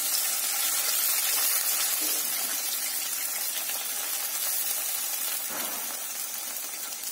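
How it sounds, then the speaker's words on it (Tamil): Tamarind water poured into a hot pan with sautéed small onions, a sustained splashing gush over sizzling for several seconds, no talking. "இப்ப நம்ம இதெல்லாம் புளி தண்ணி ஊத்திடலாம்."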